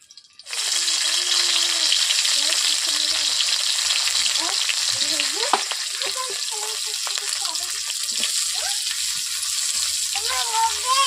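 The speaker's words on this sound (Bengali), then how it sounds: "যেহেতু বাসি মাছ, আগে থেকে মাছগুলোকে ভেজে নিচ্ছি।" Stale fish fries in a hot wok with a loud, steady sizzle that starts abruptly and runs throughout, with occasional scraping and stirring over the crackle.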